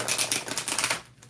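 Oracle deck of 34 unicorn-themed cards riffled by hand, a quick rapid flutter of card edges, close and fairly soft, fading out at the end.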